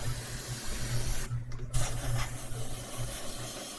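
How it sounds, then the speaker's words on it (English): A spray painting machine hisses continuously in Cyberpunk 2077, a loud airy spray with a rhythmic mechanical pulsing underneath and a brief pause midway, with no talking. "Yeah, spray paint that shit."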